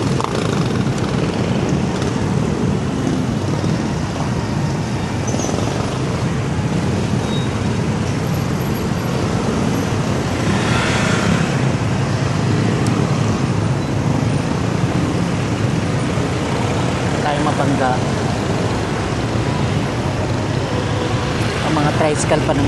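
Tricycles and steady traffic roll along Taktak road, a dense, continuous roar of engines and road noise, with a person talking through it.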